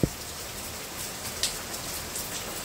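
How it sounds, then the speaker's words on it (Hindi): Heavy rain falls steadily in a dense, even hiss, with a few slightly louder drops, close by and with no voices. "कितना बारिश हो रहा है देखो, सुबह से बारिश है"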